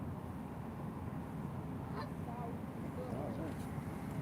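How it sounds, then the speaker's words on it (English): Ducks honk a few times on a busy New York City street as they chase a pigeon, the calls moderately close and set against a steady roar of traffic. "those damn ducks. They're after a pigeon."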